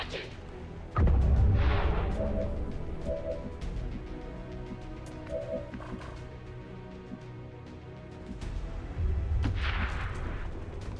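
In the video game XCOM 2, heavy gunshots boom twice, one near the start and one near the end, over a low rumbling ambience, with a voice talking in between.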